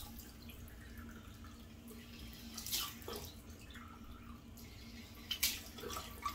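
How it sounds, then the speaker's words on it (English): Cold water runs from a sink tap on a chilly morning, a low steady trickle with a couple of brief splashes as it is scooped onto a face, fairly faint and close, no talk. "So let me just splash some cold water on this brisk winter morning or late fall morning."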